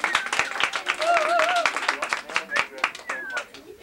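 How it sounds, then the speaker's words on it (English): A beach party crowd claps and cheers, irregular close hand claps mixed with whoops and excited voices calling out over the applause. "How about we give a round of applause to the weather,"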